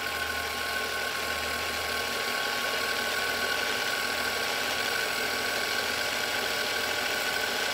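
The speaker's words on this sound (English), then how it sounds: "I'm going to take some stitches here, and then I'll just follow this pattern around" A quilting machine stitching along a pattern, a continuous fast mechanical whir with a steady rapid ticking under a faint hum, alone and unbroken throughout.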